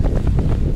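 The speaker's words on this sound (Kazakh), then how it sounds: "мына жерде қатты жел." Strong wind at an open fishing spot on the Nura river, buffeting the microphone with a loud, continuous low rumble and gusty roar, with no voices.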